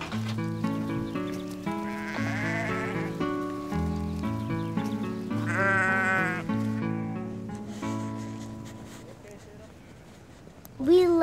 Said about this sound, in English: Feeding the sheep in the winter.